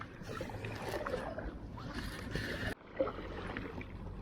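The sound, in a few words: paddling Itiwit kayak on canal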